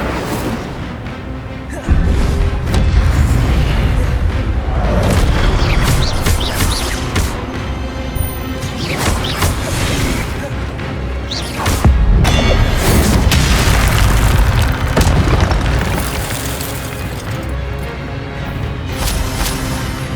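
Incendio fire spells blast repeatedly in the Hogwarts Legacy video game, with loud booming bursts and crackling whooshes over a dense, continuous layer of game effects and music.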